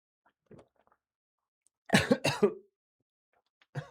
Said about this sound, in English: adding the cough as well there